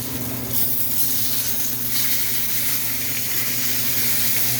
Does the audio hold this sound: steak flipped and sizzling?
yes